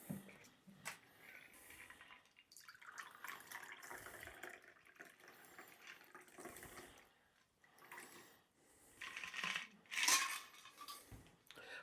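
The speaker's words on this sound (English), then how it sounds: "and we're going to pour." A Hotel Nacional cocktail is poured into a chilled coupe glass, with liquid splashing, glass clinks and a bright clink near the end, all close and moderately loud without talk.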